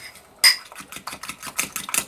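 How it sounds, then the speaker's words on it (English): A fork clinks and scrapes rapidly against a bowl while mixing batter for keto microwave bread, a close, quick rhythmic tapping with one sharper knock at the start. "I use a fork because it's easier to mix for me."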